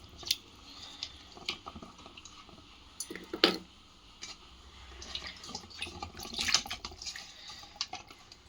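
Goat trotters are washed in water, with gentle splashing, trickling and occasional clinks and knocks against a vessel, fairly quiet and close, with no talking.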